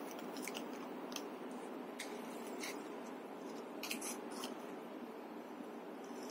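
Scissors snip through red sticker paper while a cross is cut out for a children's craft, giving short crisp crunchy cuts in small bursts, close and quiet with no talking.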